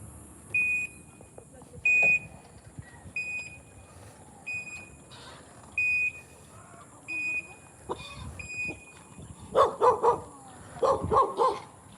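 A dog barks in short bursts near the end, over a repeating high electronic beep that sounds at a steady pace throughout.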